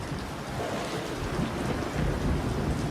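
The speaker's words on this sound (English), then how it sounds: "The monsoons of the Western Ghats are legendary, dropping almost 9 meters of rain annually in some places." Heavy monsoon rain pours in the Western Ghats, a dense steady hiss of downpour with low rumbling thunder swelling underneath, loud and close with no voices.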